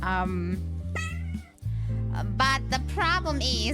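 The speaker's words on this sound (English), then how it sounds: "oh, also that's a cat" A cat meows indoors during a livestream, giving several short, clear meows interleaved with a person talking over a steady background hum.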